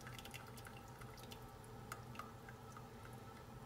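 Boiled cauliflower lifted out of its cooking water to drain, giving steady close dripping and trickling water with small ticks of falling drops, continuous throughout with no talk.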